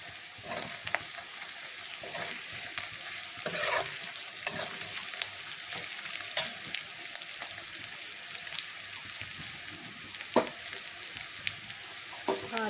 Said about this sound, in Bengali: পেঁয়াজটা আমি এবার লাল লাল করে একটু ভেজে নেব।